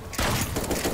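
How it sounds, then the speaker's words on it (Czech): A burst of rapid gunfire from a Fortnite-style video game crackles loudly and densely for most of a second after a brief quiet start. "tamhle dole se střílí"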